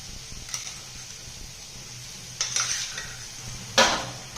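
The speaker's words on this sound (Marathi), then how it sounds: "ती ह्याच्यामध्ये मस्त अशी परतून घ्यायची आहे" Soaked toor dal is sautéed with softened ridge gourd in a pan, a low steady sizzle broken by a few sharp metal scrapes and clinks of a spatula, close and with no talk.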